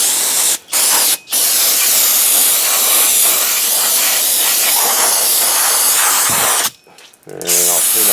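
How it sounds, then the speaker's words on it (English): Brake cleaner sprayed onto the rear brakes of a 2006 Chevy Suburban, loud close hissing bursts: a few quick short sprays, then one long continuous blast, then a final spray, with brief clatter between. "And we're going to hit a little brake clean."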